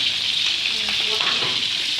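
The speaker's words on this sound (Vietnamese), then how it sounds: "Chiên cánh gà với vợ ăn cơm." Chicken wings fry in a pan with a steady, close hiss of oil that holds throughout, and faint stirring scrapes surface now and then.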